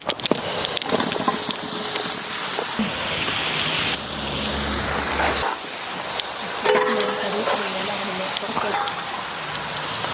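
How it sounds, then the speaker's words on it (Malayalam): Par-cooked breadfruit being tipped into a pan of browned shallots, a loud sizzle and fry with stirring and scraping that swells and shifts, with a voice talking over part of it. "3/4 വേവിച്ച് വെച്ച നമ്മളെ ചീമച്ചക്ക എടുത്ത് അങ്ങോട്ട് ഇടാൻ വേണ്ടി പോവുകയാണ്"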